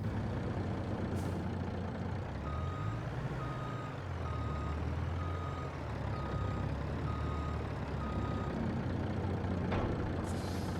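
In Farming Simulator 22, a truck reverses to hitch up a trailer: steady evenly spaced reversing beeps over a low engine rumble, with a brief air-brake hiss near the end.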